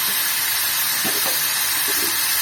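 Mutton liver sautés in a pan with turmeric and salt, giving off a steady, close sizzling hiss with a few faint stirring knocks partway through.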